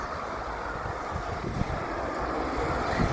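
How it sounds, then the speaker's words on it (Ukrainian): A river flows beneath a small footbridge in a French landscape, with a steady broadband rush of water mixed with wind buffeting the microphone, continuous and fairly close, with no voices. "Ось ще річка з мостика."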